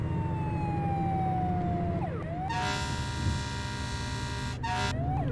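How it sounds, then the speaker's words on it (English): A wailing fire truck siren sweeps up and down, joined midway by a loud blaring air horn, all over steady engine rumble from the game Flashing Lights. "Didn't you freaking hear my sirens, doof?"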